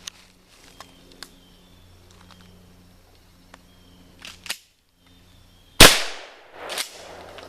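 Single loud 12 gauge shotgun blast firing a homemade less-than-lethal round outdoors, a sharp report with a trailing echo, preceded by quiet handling clicks and the action cycling.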